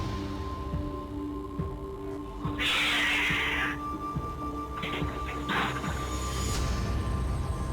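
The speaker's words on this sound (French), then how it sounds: "on entend souvent notre chat en état de panique" A house cat in a panic late at night, giving a tense, drawn-out wail over a humming room. A second shorter cry follows a couple of seconds later.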